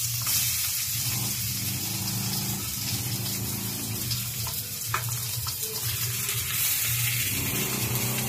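Meat for humba fries in a hot kawali, a continuous close sizzle and crackle with occasional sharp pops over a low steady hum, no talk.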